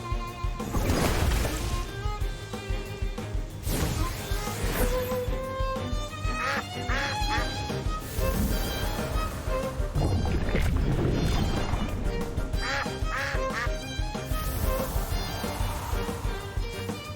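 Duck creature quacking in the Temtem monster-taming video game, heard among busy game music and battle effects that run loud and continuous throughout.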